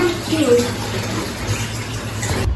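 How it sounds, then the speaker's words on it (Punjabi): Water poured into a vessel for churning homemade butter from cream, a continuous close rushing fill with a voice speaking faintly underneath. "ਹੁਣ ਆਪਾਂ ਇਹਦੇ ਵਿੱਚ ਪਾਣੀ ਭਰ ਦਾਂਗੇ"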